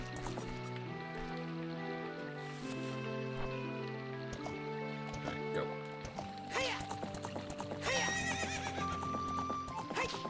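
A horse in the Ocarina of Time video game whinnies and gallops with rhythmic clip-clop hoofbeats amid game music and effects, while a person talks over it.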